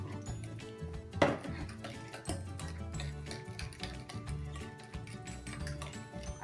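Melted butter being mixed into banana bread batter in a bowl, heard as a run of quick irregular scraping and clinking strokes of a utensil against the bowl, close by, with one sharper knock early on.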